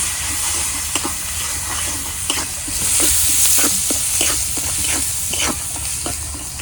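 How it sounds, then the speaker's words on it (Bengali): Spices hiss and sizzle in a pan on a clay stove while a spatula stirs them in quick, repeated scrapes, with the steamy frying noise swelling partway through. "এখন আমি মশলাগুলো কষে নিব।"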